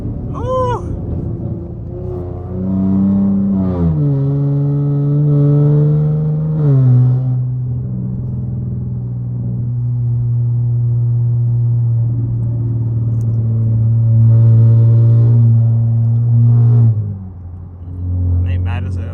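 A Ram TRX truck engine revs nearby, climbing to a loud, deep roar that holds at a steady drone before dropping off, while people talk over it.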